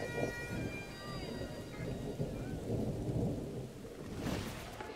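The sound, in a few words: rain and thunder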